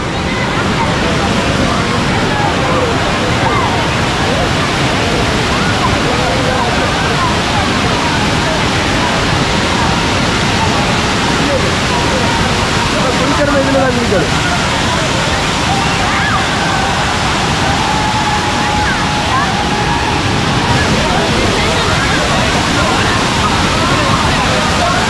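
Water thunders down Thirparappu waterfall in Kanyakumari, a loud, steady broadband roar of falling and splashing water that fills the whole stretch without letting up.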